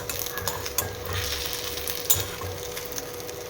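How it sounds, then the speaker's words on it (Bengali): A thick omelette frying slowly on low heat gives a soft, quiet sizzle, punctuated by a few sharp clicks of a utensil against the pan. "এরকম মোটা মোটা ডিম ভাজা কিন্তু খেতে হেভি লাগে, কিন্তু খুব আস্তে আস্তে সিমে একদম ভাজতে হয়"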